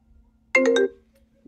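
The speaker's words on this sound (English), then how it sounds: "answer the phone" A short burst of a phone ringtone plays a quick rising run of electronic tones, loud and close, then cuts off.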